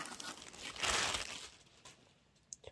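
A brief burst of plastic cable wrapping crinkling up close, loudest at first, then fading into quieter rustles.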